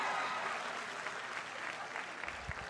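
An audience at a 2016 commencement speech applauds in a dense, steady burst of clapping that fades slightly toward the end, with no voice on top.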